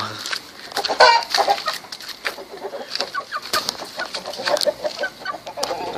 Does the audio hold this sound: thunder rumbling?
no